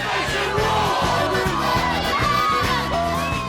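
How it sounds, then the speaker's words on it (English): Large crowd at a live event in New Orleans cheering, whooping and yelling loudly and continuously, with booming music beats underneath. "this is what they do to get the crowd pumped up"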